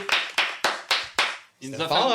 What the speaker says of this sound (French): qu'on peut applaudir très fort, s'il vous plaît